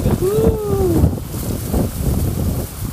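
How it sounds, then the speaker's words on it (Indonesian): Strong wind blowing outdoors at Lake Tamblingan in Bali, a loud gusty rumble buffeting the microphone, with a voice briefly heard early on. "Anginnya kencang."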